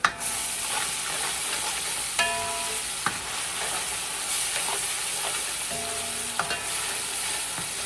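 A spinach stew with stock cubes simmering on a stovetop gives off a steady sizzle and hiss while a spoon scrapes and knocks against the pot a few times, with no voices.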